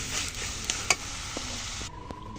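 Fried bottle gourd is stirred in a pan, with scattered scraping clicks and knocks over a steady close sizzle that drops away sharply near the end.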